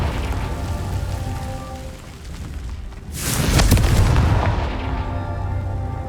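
A Confringo blasting spell from the Hogwarts Legacy video game bursts about halfway through, a sudden loud broadband boom that swells and then fades into a rumbling, crackling tail over steady background noise.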